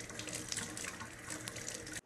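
Running tap water splashes steadily over zucchini in a sink, a continuous bright gush that cuts off abruptly near the end.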